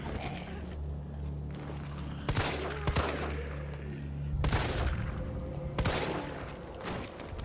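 Gunshots in Resident Evil 3: several sharp, loud shots, spaced out singly and in pairs, over a low droning background.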